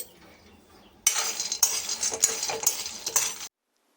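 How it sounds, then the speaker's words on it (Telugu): Peanuts being dry-roasted in a pan and stirred, a burst of rattling, scraping strokes of about two and a half seconds with rhythmic clinks and a faint sizzle, then silence. "ఫస్ట్ అయితే మనం పల్లీలు వేయించుకుంటున్నామండి"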